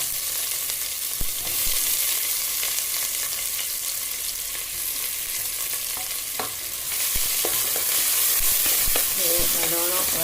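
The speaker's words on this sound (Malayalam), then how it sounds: "നല്ലോണം ഒന്ന് വെളിച്ചെണ്ണ ചൂടായിട്ട് നമുക്ക് ഉള്ളി ഇട്ട് കൊടുക്കണം" Onion frying in hot coconut oil, a steady loud sizzle running throughout with scattered clinks and scrapes of stirring and no voices.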